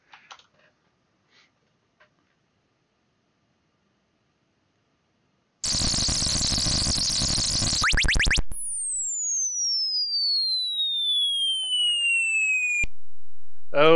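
Electronic sound effects from the space exploration video game Starflight 2: Trade Routes of the Cloud Nebula, a loud buzzing burst of rapid tones followed by long sweeping chirp and sine tones that glide downward, after a few faint clicks and near silence.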